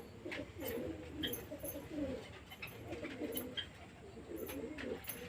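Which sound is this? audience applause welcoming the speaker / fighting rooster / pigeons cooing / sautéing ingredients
pigeons cooing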